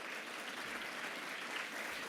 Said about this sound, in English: So a big round of applause for our panelists and all of our speakers so far.